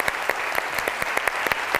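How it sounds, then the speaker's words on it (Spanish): A small audience at a live talk event gives a short burst of applause, with distinct individual claps standing out over a busy wash of clapping, moderately loud and close. "Un fuerte aplauso."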